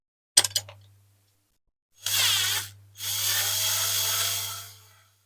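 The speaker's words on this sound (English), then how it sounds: "still need a bit more drilling on there" Short bursts of a power drill whirring close by as it drills into the plastic of a diecast toy truck, a brief clink first, then two longer drilling runs separated by a pause.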